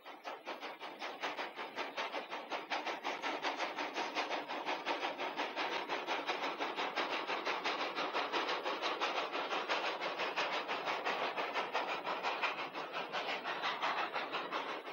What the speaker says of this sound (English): that's when the country comes alive with steam locomotives working the cane fields and